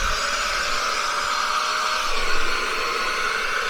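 A Bissell Little Green spot cleaner suctions wet carpet, giving a steady, loud motor whine and airy suction hiss that holds level throughout with no talking.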